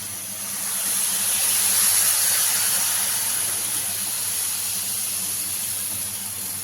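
Water poured into a pan of spiced cucumber chutney sets off a steady, loud hiss of steam that swells in the first second, then holds almost unchanged with no talking.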